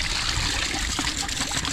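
Water trickles and splashes steadily as diluted fish amino acid mixed with water is poured onto avocado plants, a continuous close wet pouring with no talk.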